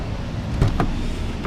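A steady low engine hum from a used Kia Morning car, with a couple of brief mechanical clunks partway through.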